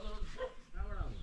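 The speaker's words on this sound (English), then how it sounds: "Why is it that the dog is following me?" Village dog in India barking near a walking person, short yips and barks close by, mixed with people talking.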